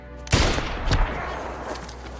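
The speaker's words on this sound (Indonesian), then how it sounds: "Scudder langsung menembak Ray tepat di dadanya" Gunshots in a film scene: two loud, sharp gunfire blasts about half a second apart, each followed by a rumbling echo that decays into low background noise.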